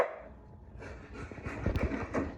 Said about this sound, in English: You're barking at yourself.